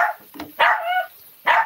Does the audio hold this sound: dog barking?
yes